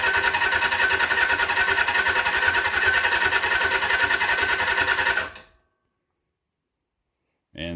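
A 1979 Suzuki GS750 motorcycle engine cranks steadily on its first start attempt in decades, a loud continuous rhythmic churning that stops abruptly, leaving silence before a brief burst resumes near the end.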